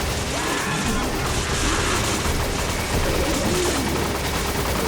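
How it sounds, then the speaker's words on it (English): Sustained gunfire from a mounted gun in Resident Evil 5, heard as a loud, continuous, dense barrage of rapid shots with booming impacts that never lets up. "Keep firing."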